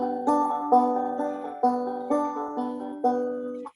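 A banjo plucked without finger picks, picking a steady, bright melody note by note, slightly soft and muted in attack, played alone and close.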